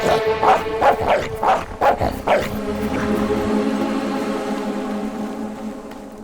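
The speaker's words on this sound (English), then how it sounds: "Roll over, you stupid mutt." A dog in Fable 3 barks in a quick run of yips, then lets out a long, drawn-out whimpering whine that fades, close and loud.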